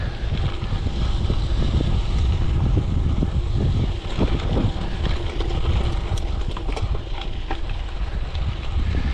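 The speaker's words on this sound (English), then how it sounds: "At least there's a nice breeze out today." A breeze blows across a mountain bike trail, producing a steady, close rushing of wind over the microphone with low rumbling and no pause.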